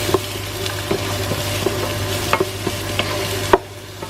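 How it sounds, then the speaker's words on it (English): Chopped onion fries in a pan for a vegan cauliflower and chickpea curry, a steady sizzle broken by a spoon's repeated scraping and tapping as it is stirred. "I'm gonna add the onion. And I'm just gonna stir in for a few minutes."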